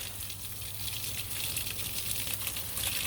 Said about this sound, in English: We're going just old school faucet hose.